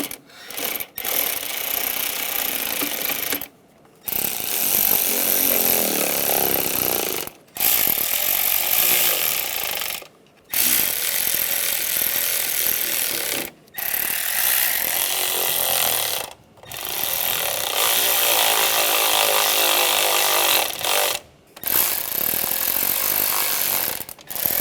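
Ratchet tightening valve cover bolts on a 1996-2002 Toyota 4Runner, rapid clicking in long bursts separated by brief pauses, up close.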